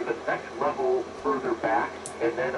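A homebrew shortwave receiver with an Si5351 sine-wave beat frequency oscillator puts out a steady stream of received voice audio, continuous and moderately loud with a thin radio tone.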